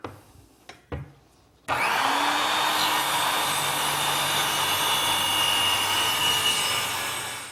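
Table saw spinning up and cutting a plywood sheet for a library shelving project, a few clunks then a loud sustained whining roar with rising pitch that stays steady to the end.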